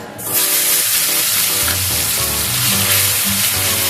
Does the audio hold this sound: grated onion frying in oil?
yes